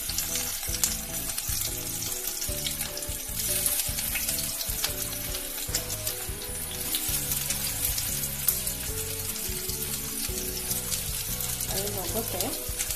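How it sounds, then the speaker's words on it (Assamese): Small chopped onions dropped into hot oil sizzle and crackle steadily for the whole stretch, a dense close frying hiss with faint clinks of utensils and no talk. "তেলখিনি গৰম হোৱাৰ লগে লগে মই এনেদৰে কুটি থোৱা সৰু সৰু পিঁয়াজখিনি দি দিলোঁ।"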